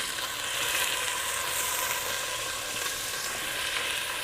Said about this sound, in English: now I'm gonna drop my chorizo down in there